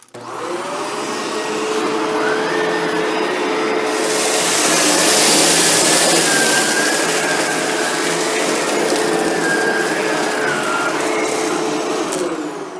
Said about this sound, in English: how close to the baseboards does the vacuum get when you're vacuuming